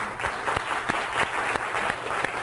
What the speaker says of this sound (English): A round of applause for Timothy and for Abdul